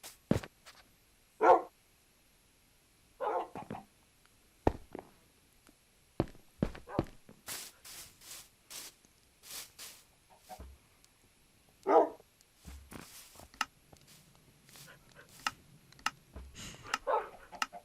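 Scattered short barks and yaps from wolves in Minecraft, with footstep and clicking sounds in between, no talking.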